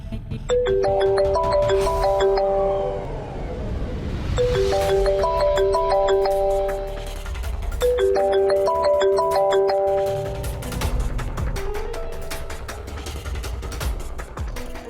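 A melodic phone ringtone plays in repeated cycles, bright chiming tones rising and falling, loud and close, with no talking.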